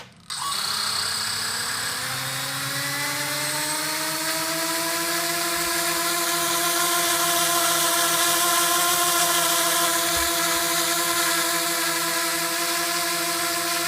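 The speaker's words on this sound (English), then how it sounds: "And start the engines." Blade QX quadcopter drone motors spin up after a sharp start click, then hold a steady, loud, close electric whine with rising harmonics as they run.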